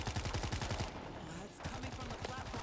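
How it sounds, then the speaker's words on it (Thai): Rapid bursts of automatic gunfire from the video game World War Z, sharp repeated shots in a fast rhythm. A brief pause comes before the firing resumes under a dense, loud game soundscape. "ยิงนะครับยิงทะลุทลายเลย"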